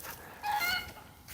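Chickens in a raised, predator-proof backyard coop let out a short, faint honking cluck that lasts about half a second over quiet background noise.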